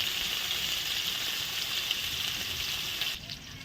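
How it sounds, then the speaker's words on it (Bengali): Potatoes fry in hot oil with a steady, even sizzle that holds throughout and eases slightly at the end, with no voices. "তো বন্ধুরা আলুটা ভেজে নেব একটু"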